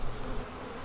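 Honey bees crowd a frame lifted from a hive, their buzzing a dense, steady drone held close and fairly loud for the whole moment, with no voices.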